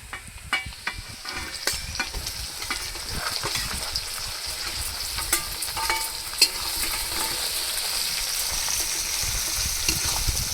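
Chopped onion fries in a pan for a country chicken curry, sizzling steadily while a spoon stirs and scrapes, giving repeated sharp clicks and taps over the hiss.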